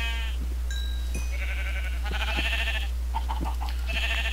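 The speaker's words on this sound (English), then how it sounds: "A sheep!" Sheep bleating in the Minecraft video game, several short nasal bleats in succession, clear and upfront over a steady low hum.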